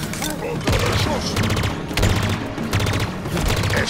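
Rapid bursts of gunfire from the shooter game Halo Infinite, several clusters of loud repeated shots with booming low thumps, continuous and close, with game effects underneath.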